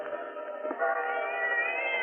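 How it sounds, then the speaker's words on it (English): A cat howls at night in a radio drama scene, one long sustained drawn-out wail heard loud and alone, with the moaning wind behind it. "Somewhere a cat howled against the moaning wind that had sprung up."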